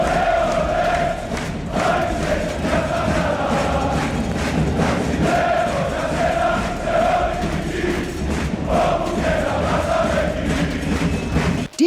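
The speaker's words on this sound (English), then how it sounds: "The crowd goes absolutely wild." A basketball arena crowd roars and cheers for a European league game, a dense sustained wall of shouting and cheering with rising swells and scattered thumps, loud and continuous throughout.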